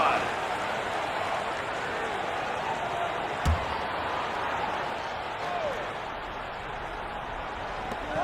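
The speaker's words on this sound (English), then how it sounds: "Please give a big round of applause for your youth dance squad." Broad, steady crowd cheering and clapping in a basketball video game fills the whole stretch, a dense roar from a large arena with a brief thump partway through.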